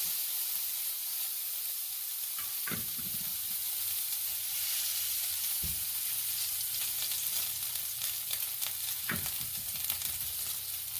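Steady, close sizzling of salmon searing in a hot frying pan, a constant crackling hiss with a few brief louder pops, no voices.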